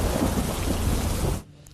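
Heavy downpour with rumbling thunder during a storm in Savarkundla, Amreli, Gujarat, a dense, loud wash of rain over low rolling thunder that cuts off abruptly near the end.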